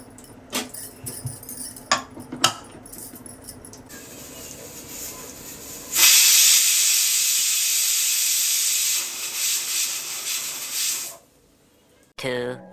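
A kitchen pressure cooker with ivy gourd and moong dal inside builds to a loud, sustained steam hiss lasting several seconds, preceded by light clicks and clatter and ending abruptly.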